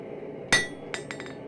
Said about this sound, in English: you hang it over the edge of the anvil and you do a set down on it